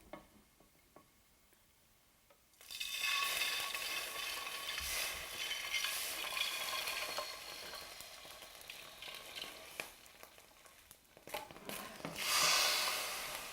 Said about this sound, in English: when you're adding something cold to something very hot, it's going to spit